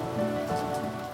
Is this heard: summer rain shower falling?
yes